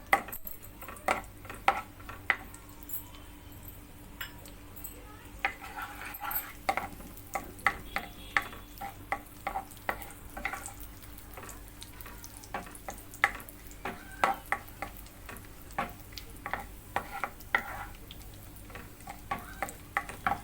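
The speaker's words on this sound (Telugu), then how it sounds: "కిస్మిస్ బాగా జీడిపప్పు ఫ్రై ఎర్రగా ఫ్రై అవ్వాలి" Raisins and cashew nuts fry for rava laddu, a faint steady sizzle dotted with frequent light clicks and taps of a spoon against the pan, close and quiet with no talk.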